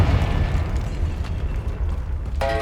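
A Confringo spell explosion in Hogwarts Legacy gameplay, heard as a loud, sustained booming blast with a rumbling low end that ends in a bright magical chime.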